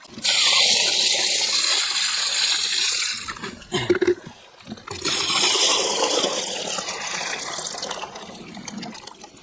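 Water is poured out of a bucket during gold panning before a river sluice is set up: a loud, sustained gush that breaks off briefly, then a second long pour that tapers off.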